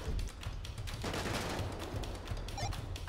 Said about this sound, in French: Coup de feu.